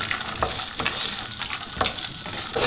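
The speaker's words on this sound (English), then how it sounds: "the ghee gets hot in the frying pan, we need to saute all these nuts and the raisins" Steady sizzling of nuts and raisins frying in hot ghee, with occasional scraping stirs of a spatula against the pan, close and continuous.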